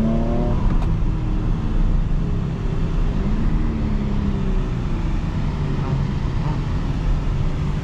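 A 2020 Porsche Cayenne Coupe S with a V8 engine accelerates at full power, heard from inside as a loud, steady engine roar with a rising and falling pitch and road rumble, sustained throughout with no speech.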